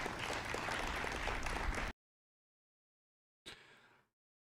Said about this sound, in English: They have speakers playing people clapping